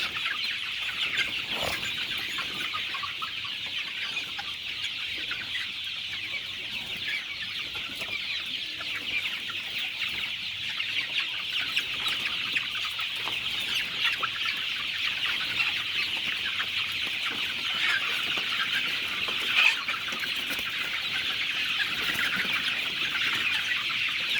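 Chickens cluck steadily throughout, a dense flock sound with occasional brief squawks standing out, no talking.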